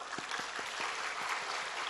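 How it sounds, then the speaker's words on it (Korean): A church congregation claps to welcome visiting church officers, a steady broadband patter of many hands filling the room, with a faint low thump pulsing underneath. "외부에서 오신 직분자들 우리 박수로 격려해 주겠습니다."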